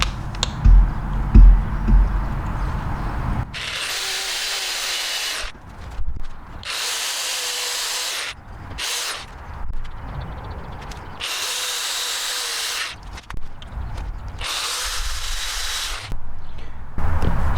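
A power drill bores pilot holes into a piece of wood while a custom backsplash is built for a Husky 72-inch triple bay tool box. About six loud, close whirring bursts are separated by short pauses, with no talking.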